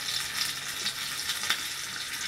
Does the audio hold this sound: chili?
yes